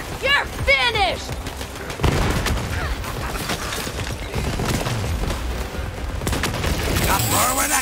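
Borderlands 3 gunfire from a shotgun that fires a freezing beam, heavy repeated blasts and booming impacts layered with chirping game effects, while someone talks over the action.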